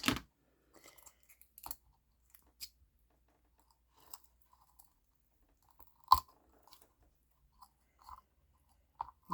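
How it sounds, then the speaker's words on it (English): Scissors cutting plastic wrapping off a journal, quiet sparse snips and crinkles spaced irregularly, with one sharper cut standing out. "Now I got my scissors in it."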